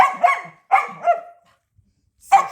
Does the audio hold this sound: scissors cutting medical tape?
no